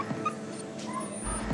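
An injured Shih Tzu with a fractured pelvis whimpers softly, a few thin, high whines and yips close by in a quiet indoor room.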